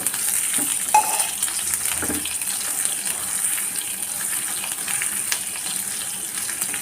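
Onions sauté in a pan for a jackfruit seed gravy, giving a soft continuous sizzle with a few faint clinks of a utensil early on and no talk.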